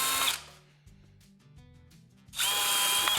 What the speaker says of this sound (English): So now what I'm gonna do is take my 3/32 drill bit. Okay, quick little hole in each one.